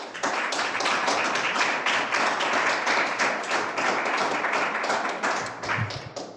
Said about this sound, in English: some shouts out, claps, snaps for my friend